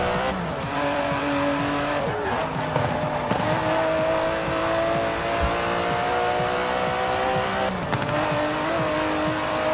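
Aston Martin DB11 racing in Forza Horizon 4, a steady engine drone rising and falling through gear changes with tire squeal, continuous and close for the whole stretch.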